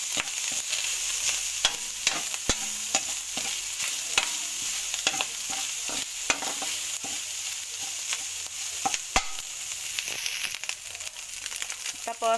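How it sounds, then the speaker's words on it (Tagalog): Ground pork is stir-fried with garlic for ampalaya con giniling, making a steady sizzle with frequent rhythmic spatula scrapes and taps against the pan, close up and without talk. "ihalo na natin yung kiniling, yung ground pork"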